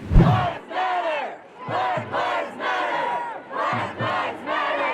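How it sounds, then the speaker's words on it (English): Large crowd of protesters chanting in unison at a George Floyd march in downtown San Antonio, repeated rhythmic shouted phrases in loud bursts separated by brief pauses, loud and close. "Large crowds of protesters took to the streets of downtown San Antonio on May 30th, following the death of George Floyd"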